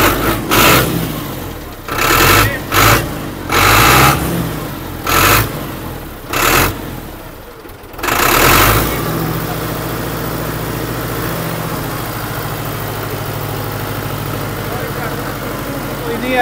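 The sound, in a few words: modified tractor engine running and revving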